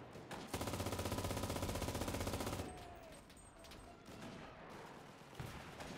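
Machine gun fire in the World War II shooter game Enlisted, a loud rapid burst of automatic shots lasting about two seconds, then echoing tails and faint distant shots, with brief game sounds after.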